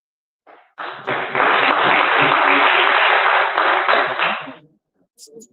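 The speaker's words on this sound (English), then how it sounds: "that was about half the room applauded" An audience at a political town hall in Redcliff, Alberta applauds in one burst, a dense round of clapping that rises quickly, holds steady for about four seconds and then fades, with brief quiet before and after.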